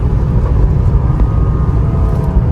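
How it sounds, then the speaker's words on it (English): Cadillac ATS 2.0T turbocharged four-cylinder in a 2014 AWD car, held at elevated revs in sport mode, a steady loud low engine drone with road and wind rumble inside the cabin. "Now you can see the revs stay up a bit in sport mode. It's doing some rev matching for you."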